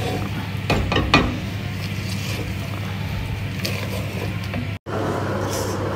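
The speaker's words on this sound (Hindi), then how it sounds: "मैंने इसमें सारे मसाले मिक्स कर दिए हैं और थोड़ी देर इनको थोड़ा सा 5-7 मिनट इसको पका दूँगी अच्छे से" Spices for Uttarakhand-style winter saag cook in a pan with steady faint sizzling under a low hum, broken by a few clinks and scrapes of stirring, close and moderately loud.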